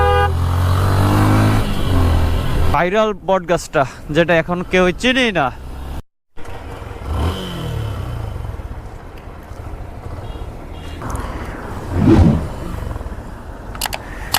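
A Yamaha FZS V2 motorcycle rides at night along the metro rail road at Diabari, giving a steady engine and wind roar. Someone talks over much of it, and the sound cuts out briefly partway through.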